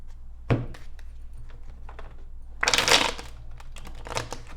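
Tarot cards being shuffled by hand, giving a sharp slap near the start and then a dense burst of riffling flutter midway, with softer scattered card taps around it in a quiet room.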